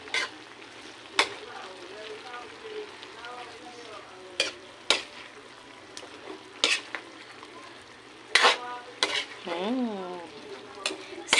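Pancit canton noodles stirred with oyster sauce in a pan, the spatula scraping in repeated strokes over a steady sizzle, with a few sharp clanks against the pan and a brief voice near the end.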